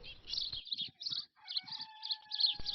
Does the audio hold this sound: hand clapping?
no